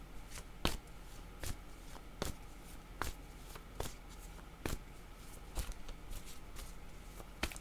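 Word cards for a card reading shuffled by hand, a close, soft riffling with regular sharp snaps about twice a second, quiet throughout and free of speech.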